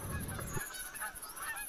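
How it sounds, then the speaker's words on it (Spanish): Several geese honk in the hunting video game theHunter: Call of the Wild, repeated faint overlapping calls at a distance over an outdoor background, with no talk. "Escuchamos a los gansos graznar."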